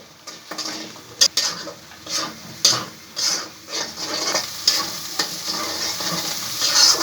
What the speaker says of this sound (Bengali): এক টুকরা দারচিনি দিয়ে ভালো করে কষিয়ে নেব